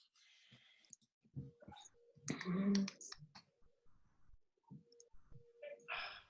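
Scattered light clicks of keys on a malfunctioning computer keyboard, irregular and soft, interleaved with someone talking.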